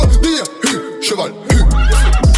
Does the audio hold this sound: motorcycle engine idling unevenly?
no